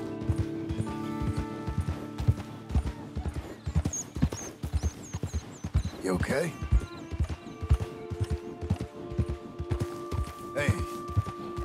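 Horse hooves clip-clopping at a steady walking rhythm in Red Dead Redemption 2, close and loud throughout, with a whinny midway, a rider's brief spoken lines and faint music underneath.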